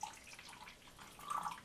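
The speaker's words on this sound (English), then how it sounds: "We're going to add the water to the salt." Distilled water poured onto 36 grams of salt in a container to make a calibration solution, a soft trickling wash that swells briefly near the end, quiet and close with no talk.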